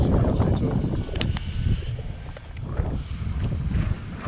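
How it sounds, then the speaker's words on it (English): Gusty wind buffets the microphone with a continuous low rumble, loud and close, while faint voices come through underneath, outdoors during testing of an Arrma Infraction RC car. "It is pretty windy today too."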